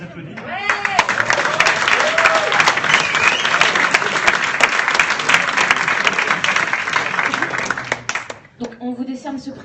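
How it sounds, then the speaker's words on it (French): Prize-giving audience at the Hackaniort hackathon awards bursts into loud, sustained applause lasting several seconds, then tapers off as a voice speaks near the end. "Vous pouvez les applaudir."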